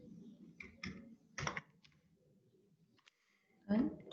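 Keystrokes on a computer keyboard while code is typed, a few scattered soft clicks in short bursts between pauses, with a voice speaking nearby.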